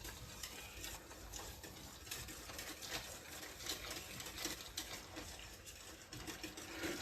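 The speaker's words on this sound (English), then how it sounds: "Just keep whisking it and adding in the grits." A whisk stirs thick kali batter for Thiruvadhirai while grits are added, giving a steady, dense scraping and swishing texture that runs continuously throughout, close and even, with no talk.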